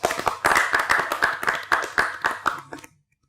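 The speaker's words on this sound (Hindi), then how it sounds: "बिलाल और अभिया के लिए तालियां बजाएं" Audience clapping for the winners of a challenge on a Pakistani TV game show, a steady run of close, sharp hand claps that fades out near the end.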